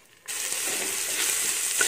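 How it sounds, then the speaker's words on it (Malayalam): Moong dal, washed and still damp, roasting in hot ghee for a payasam, starting with a sudden loud burst of sizzling at the drop and then a steady, close, crackling fry with no talking. "എന്നിട്ട് ആ നെയ്യ് നന്നായിട്ട് ചൂടാകുമ്പോൾ അതിലേക്ക് നമുക്ക് ഈ കഴുകി വെച്ചേക്കുന്ന ചെറുപയർ പരിപ്പിട്ട് കൊടുക്കാം."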